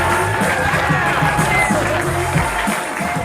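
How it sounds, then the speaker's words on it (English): A comedy club audience at the Comedy Palace claps and cheers for a comic taking the stage, a dense steady wash of crowd applause filling the room throughout. "But please clap it up for him."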